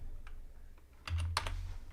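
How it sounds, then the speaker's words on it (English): Quick, close keystrokes clatter on a computer keyboard as a cheat code is entered during a Doom deathmatch session, a short burst of clicks over a quiet background. "So try typing ID Must 15."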